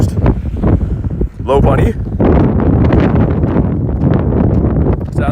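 Strong outdoor wind buffeting the microphone in loud, rumbling gusts, with a person talking over it.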